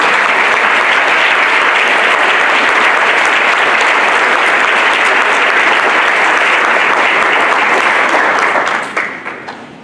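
Steady, dense applause from an audience honoring students at a school board event fills the room, holding loud for about nine seconds before tapering off at the end.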